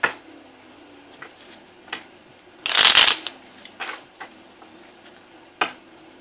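Oracle cards from a Making Magic deck riffled in one quick, close burst, surrounded by soft taps and handling clicks in a quiet room.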